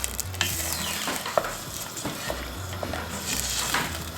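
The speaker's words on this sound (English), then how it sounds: "Give that a stir, and we want that to come to the boil now." Basmati rice being stirred in a pot of water for pilau, a steady scraping and swishing with a bright clank around the middle, close and fairly loud with no talking.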